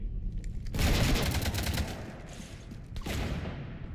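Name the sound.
gunfire on a ship in Mass Effect 3 video game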